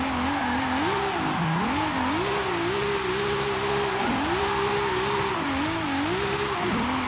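A car drifting on the Cara Este drift track in Forza Horizon 5, a loud continuous engine drone with a whining pitch that rises and dips repeatedly as the car slides, with a steady hiss of tire noise beneath.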